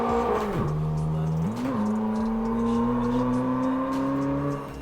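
A Doğan SLX car's engine in the racing game Assetto Corsa, on the Şile road, drones steadily at high revs, the pitch dipping briefly then climbing again as it accelerates, loud and continuous.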